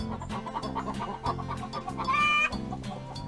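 Farmyard chickens cluck steadily in a repeating rhythm, with a brief higher squawk near the middle, heard up close over a bed of music with no talking.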